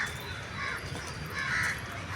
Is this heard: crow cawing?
yes